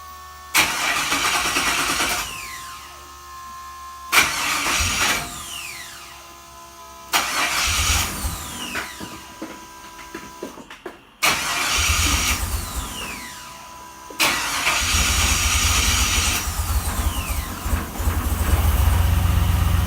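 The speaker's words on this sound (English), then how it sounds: "I'm now going to start up the car" A car engine is cranked several times, with each attempt catching, running briefly and cutting out, until it finally settles into a steady idle. The car has a fuel pressure problem after running out of gas.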